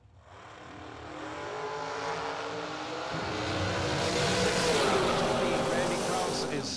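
Drag race cars at a bracket racing event roar down the strip, a broad engine rumble that builds and swells steadily, with a public-address voice talking over the noise.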